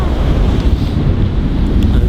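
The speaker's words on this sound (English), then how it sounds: "Those are some gnarly waves" Ocean surf pounds the rugged Iceland coastline under a steady roar of wind buffeting the microphone, a dense, continuous wash of breaking waves with no pauses, loud and close.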